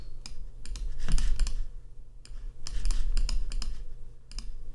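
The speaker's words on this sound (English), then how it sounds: "I'm just clicking on the plus symbol below the menu item to add the menu item" Computer mouse clicks while adding menu items in web design software, several crisp clicks in short clusters against a quiet room background.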